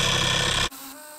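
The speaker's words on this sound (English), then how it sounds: "it's grinding on the tip of this thing just a little bit on each side" A Harbor Freight drill bit sharpener grinds the tip of a drill bit with a loud, high buzzing whine that abruptly drops to a quieter hum partway through the brief burst.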